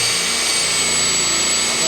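Power drill with a bit fitted, running at a steady high-pitched whine that holds loud and unbroken for a couple of seconds.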